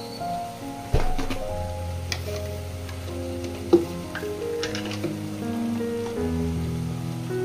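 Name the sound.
spices frying in a pan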